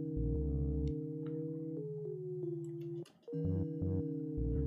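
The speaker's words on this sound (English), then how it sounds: "So you can actually hear the bass line as well." A groovy, jazz-like lo-fi bass line plays with keyboard chords, loud and sustained, with the notes stepping down before a short break and then resuming.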